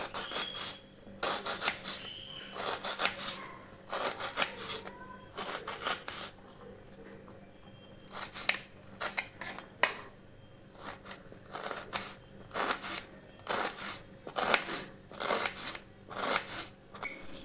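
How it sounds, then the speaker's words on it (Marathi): A knife cuts onions into thin slices for onion bhaji, making quick bursts of crisp slicing strokes against a cutting board, repeated in rapid rhythmic runs with short pauses, close and fairly quiet. "हे बघा, या पद्धतीत असं छान पातळ कांदा चिरून घेतला आहे."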